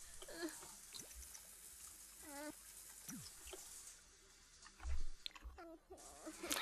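A shower runs in The Sims 4, its faint, continuous watery trickle sitting beneath scattered chirpy Sim vocal sounds and small clicks.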